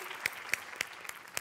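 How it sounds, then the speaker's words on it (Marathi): Faint, sparse handclaps come from an audience at a Marathi comedy sketch show, about five distinct claps spaced a few tenths of a second apart over a quiet background. "जोरदार टाळ्या."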